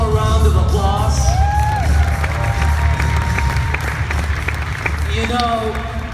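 An audience at a large convention claps and cheers in a steady round of applause, with scattered whoops and voices calling out over the continuous clapping.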